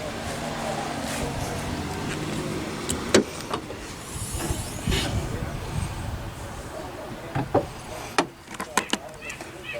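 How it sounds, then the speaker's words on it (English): Hood latch of a Jaguar S-Type popped and the hood raised, giving a few sharp clicks and thumps over steady background noise, with people talking throughout. "Hood goes up. Hood goes up real easy."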